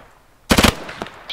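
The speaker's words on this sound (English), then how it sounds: "start suppressing that fucking, I'm digging trenches. Real slow fire, put it just into the trees" A short, close, loud burst of rapid gunfire delivered as slow suppressing fire into trees during an outdoor airsoft or mock-battle event, followed by fainter scattered shots.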